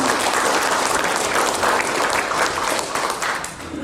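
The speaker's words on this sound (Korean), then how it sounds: "큰 박수로 축하해 주시기 바랍니다." Sustained applause fills a hall at a Korean power company's anniversary ceremony as award winners are honored, a thick, even roar of many hands clapping at once, loud and continuous throughout.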